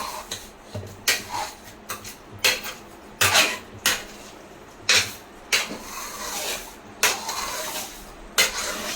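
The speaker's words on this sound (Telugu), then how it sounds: "ఉప్పు పసుపు బాగా ఒకసారి కలపాలి ఇలాగా" A spoon scrapes and clinks against a pot as chicken pieces are stirred with salt and turmeric for an oil-free country chicken curry, giving a steady series of sharp metallic knocks roughly every second, close and moderately loud.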